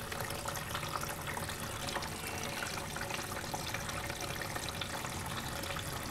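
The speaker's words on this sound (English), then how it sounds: "it comes in from the outside via this hose, and it is now filling this tank" Water from a hose filling a motorhome water tank in a converted shuttle bus, a steady rushing, splashing flow that stays constant and fairly close throughout with no talking.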